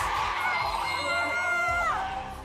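A sellout arena crowd roars and cheers at a women's basketball game, a loud sustained wall of voices with high whoops and screams that swells and then fades slightly at the end.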